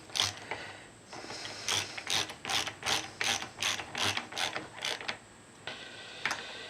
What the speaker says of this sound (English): Tighten everything up real good.